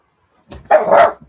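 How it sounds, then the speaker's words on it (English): An indoor house dog gives a single short, loud bark after a brief silence, with no talk. "She keeps barking at the kitty girls"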